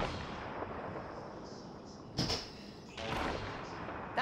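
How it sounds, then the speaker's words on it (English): Gunfire from another squad in the video game Apex Legends, heard as a few distant bursts around the middle and end over a steady background of game noise. "That's another squad shooting."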